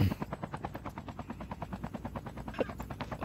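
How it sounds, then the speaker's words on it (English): Helicopter in a video game, a rapid, steady rotor chop that thumps evenly throughout, fairly quiet and close, with no voices over it. "I got in the helicopter."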